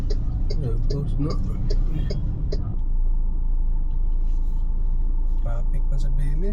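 Low rumbling road traffic passes downtown, with car engines droning steadily close by as people talk over it.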